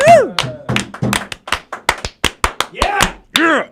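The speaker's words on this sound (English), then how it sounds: "We're clapping it up." A person claps hands in a quick, uneven run of sharp slaps, close to the microphone, with vocal sounds mixed in at the start and end.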